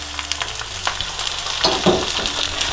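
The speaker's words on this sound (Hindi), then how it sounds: "इसे हमने फ्राई करना है तब तक जब तक कि इसका कलर चेंज हो जाए" Starling meat fries with onions in a karahi, making a short, close, crackling sizzle with quick stirring and scraping and no talk.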